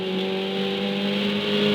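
A Ferrari 488 Challenge Evo race car accelerates on track, its engine a loud, steady harmonic drone that swells slightly in the final moments, heard from close by with no talking.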